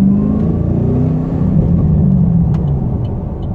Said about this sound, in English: Sounds really good when you get on it a little bit. You hear a little bit of supercharger